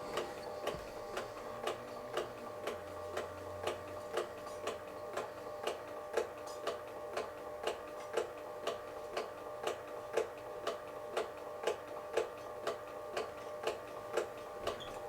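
A Magnasonic FS81 Super 8/8mm film scanner running on its own, a steady mechanical tick repeating about twice a second over a faint motor hum.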